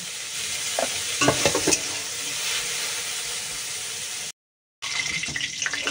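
Fish fries in hot oil in a home kitchen with a constant close sizzle, a few sharper spatters early on, and a brief drop to silence before the frying resumes.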